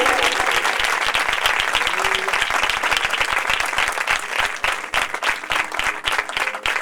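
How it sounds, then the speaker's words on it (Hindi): Sustained, dense applause fills a Christian church gathering in Nowshera as a speaker is welcomed, with loud, even clapping from many hands that continues for nearly seven seconds and fades slightly toward the end. "जोरदार ताली में उसके रूप को वेलकम करेंगे"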